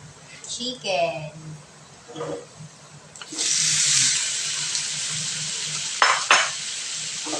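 Chicken pieces drop into melted butter in a pot for soup, bursting into a loud steady sizzle after some stirring and clinking of a utensil, with someone talking before the sizzle starts.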